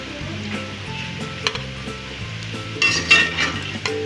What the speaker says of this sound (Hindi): अरवी हमारी फ्राई हो चुकी है। मैंने इसको लाइट सा ब्राउन कलर दिया है